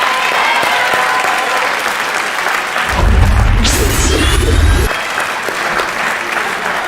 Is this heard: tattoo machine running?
no